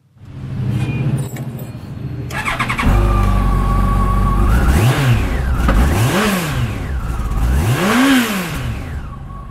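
A 2008 Yamaha FJR1300 motorcycle with ABS starts up and idles, then its engine is revved three times in rising and falling swells, loud and close, with no talk over it.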